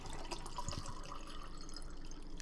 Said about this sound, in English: I was pouring some water and it was much louder than I was anticipating